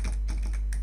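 Close computer keyboard typing in the Brackets code editor, a few quick key taps over a constant low hum.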